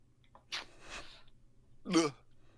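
Two faint sneezes, a soft one followed by a sharper, louder one, in an otherwise quiet room.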